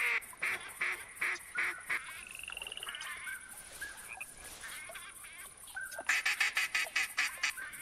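Pintail and mallard ducks call in the hunting game theHunter Classic, a rhythmic series of repeated quacks and whistling calls, moderately distant and faint, with a louder burst of quick calls near the end.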